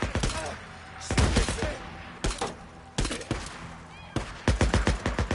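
Gunfire in the video game Days Gone, loud rapid bursts and single shots repeating throughout, close and punchy, with no speech.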